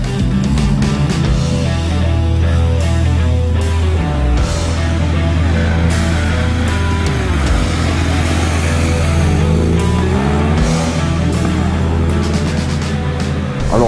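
A BMW R 1250 RT ShiftCam boxer twin pulls steadily in road mode, its low, smooth engine drone continuous and close with shifting revs as the motorcycle rides along.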